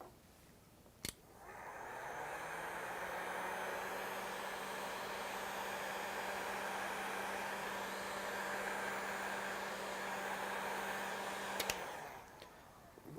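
A hair dryer drying paint runs steadily for about ten seconds, a loud, even whooshing roar with a low hum, starting and stopping with sharp clicks.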